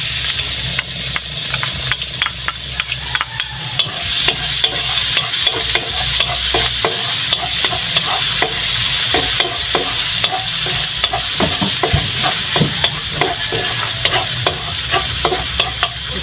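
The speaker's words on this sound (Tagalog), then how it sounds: "Maglagay ng kunting mantika sa kawali at igisa ang bawang at sibuyas." Garlic and onion sauté in a little oil in a pan, a loud, constant sizzle broken by frequent close stirring scrapes and clicks, with no voices.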